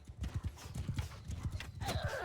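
Horses gallop in a Mount and Blade 2 Bannerlord battle, with rapid rhythmic hoofbeats thudding close and steady throughout, plus a brief whinny-like cry near the end.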